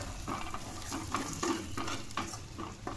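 A spoon stirs onion-garlic masala with crushed peanut powder in a pan, giving rhythmic scraping strokes over a steady low sizzle of frying, close and continuous, with no talking.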